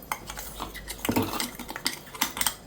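A spoon scrapes and clinks in a bowl, stirring dry ginger powder and other spice powder together with chilli powder: a quick run of small, close, irregular scratches and taps with no talk.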